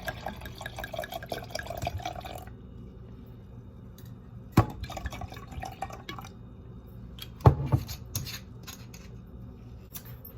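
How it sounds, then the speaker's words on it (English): Hot water runs from a kitchen tap in a steady hiss over a bottle being warmed to loosen its stuck cap, broken by a few sharp clinks and knocks, close by and with no talking. "Can't open something, just run it under some hot water."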